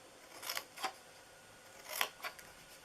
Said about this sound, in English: Cut a little bit away